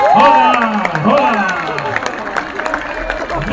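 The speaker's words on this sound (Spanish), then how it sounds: "Fuerte el aplauso para recibir la representación de Canadá" A festival crowd claps and cheers loudly to welcome a Canadian folk group onto the stage, with whoops and shouting voices riding over dense applause.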